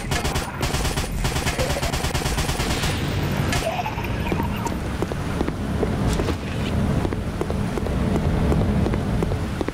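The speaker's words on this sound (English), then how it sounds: "If that's a minigun, I wanna see how Maxigun looks like" Minigun in the retro first-person shooter Brutal John, firing in long, dense automatic bursts of rapid loud shots over a continuous rumble, with no speech.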